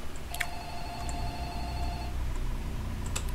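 A telephone rings inside the Roblox horror game Light Bulb Reillumination, one long electronic ring tone standing out clearly over a low rumbling game ambience, with a brief second burst near the end.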